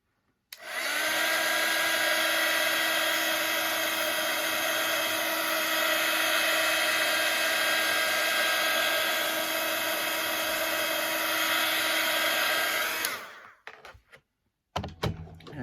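A hair dryer blows steadily to dry alcohol ink on tissue paper, a loud continuous whine with a high tonal hum running unbroken for about twelve seconds before cutting off, then a few faint knocks.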